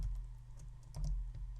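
Keys on a computer keyboard are pressed in a few faint, scattered clicks over a low steady hum.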